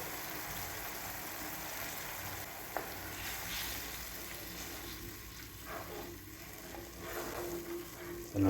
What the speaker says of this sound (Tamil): நல்லா கொதித்து புளி வற்றி வரட்டும்.